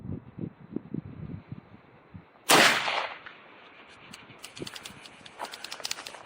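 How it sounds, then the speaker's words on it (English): A shotgun blast from a video game, a single loud sharp report fired alone with a short decaying tail, followed by faint mechanical clicks and rattles. "Now we'll fire one shot with rubber buckshot and one with salt"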